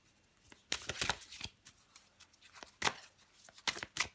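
Tarot cards being shuffled by hand in quick, crisp riffling bursts, close and fairly quiet, coming in several separate flurries with short pauses between them.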